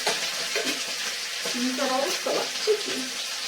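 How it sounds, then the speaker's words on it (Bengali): Fish frying in hot oil on a home stove, a steady broadband sizzle running throughout with faint clinks and stirring underneath, no talk. "যে মাছগুলো ভেজে দিই ঠান্ডা ভালো লাগবে না তাই এখন ভাজলাম"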